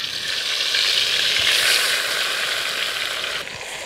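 Masala paste frying in hot oil and ghee for mutton pulao, a steady loud sizzle with a bright hiss that holds throughout and dips slightly near the end.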